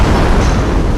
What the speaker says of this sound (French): La vidéo au ralenti de l'explosion est encore plus révélatrice.